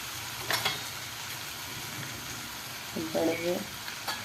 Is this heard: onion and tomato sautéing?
yes